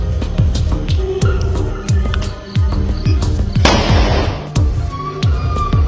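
Firecrackers set off on a street in Kozhikode, Kerala to scare away stray dogs: a rapid run of sharp, loud bangs and cracks, with a dense crackling burst in the middle, close and continuous.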